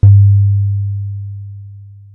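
A single synthetic low sine tone starts abruptly with a brief click and holds steady for about two seconds, slowly fading, pure and alone with no other sound.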